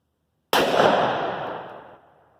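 A single .357 Magnum gunshot firing a Steinel 125 grain solid copper hollow point, a sudden loud crack out of silence followed by a long echoing decay lasting well over a second.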